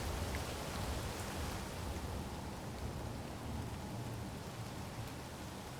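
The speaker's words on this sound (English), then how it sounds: "Oh, the rain." Rain falls steadily in the Space Engineers video game as a broad, even hiss with low rumbling underneath. It keeps a constant level with no voices.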